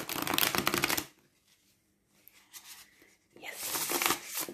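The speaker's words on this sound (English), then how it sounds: "I am not much of a riffle shuffler." A deck of cards is riffle shuffled in two crisp, close bursts of rapid fluttering, separated by a quiet pause with light handling noises.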